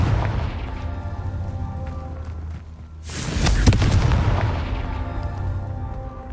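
A Confringo blasting spell goes off in Hogwarts Legacy: a sudden broadband burst near the middle lands over steady game ambience and rumble, then fades slowly into a lingering tail.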